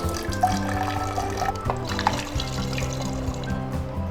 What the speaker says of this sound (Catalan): Posem l'aigua? Perfecte. 100 mil·lilitres.